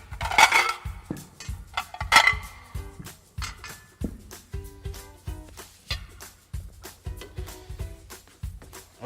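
Ceramic dishes, pots and cutlery clatter while ossobuco is plated into four portions in a kitchen, giving a rapid run of close, sharp clinks and knocks with a few louder ringing hits.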